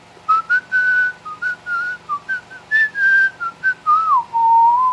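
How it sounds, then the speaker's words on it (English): A person whistles a wandering tune, clear high notes in short phrases with brief breaths between, close and loud. "Who knows how to whistle"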